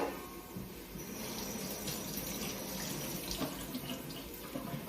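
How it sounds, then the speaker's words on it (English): Water runs steadily from a tap, splashing and rinsing vegetables with small shifts in the flow, close and moderately quiet. "I'm going to quickly run these through water"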